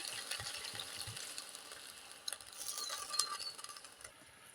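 Dried chilli and five-spice fry in oil over low heat for a pickle, producing a soft, uneven crackling sizzle with scattered sharp pops and light stirring scrapes, no talking.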